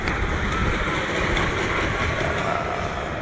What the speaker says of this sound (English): I guess that was the train.